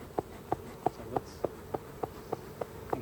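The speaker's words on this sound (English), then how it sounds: "I don't want to smoosh all these bees over here" Honeybees during an open hive inspection give off an insect drone with a steady series of short, evenly spaced pulses, close by and with no talking.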